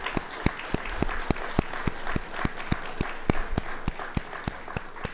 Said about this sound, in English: How about a round of applause for all you guys?